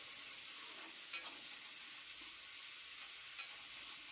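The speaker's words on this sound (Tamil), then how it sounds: "இஞ்சி பூண்டு பேஸ்ட் நல்லா பச்சை ஸ்மெல் போற வரைக்கும் வதக்கிக்கலாம்." Ginger garlic paste sautés in a pan for Maggi noodles, giving a steady, fairly faint sizzling hiss with a couple of soft stirring clicks and no voices.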